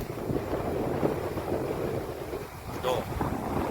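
Rainwater from the previous night's rain rushes in from Haliyad toward the Bagasara Munjiyasar dam as a loud, steady roar of flowing water, with wind buffeting the microphone throughout.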